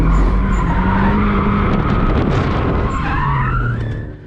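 A race car spins out on a track in a long, loud tire skid with screeching squeal over the engine, fading near the end.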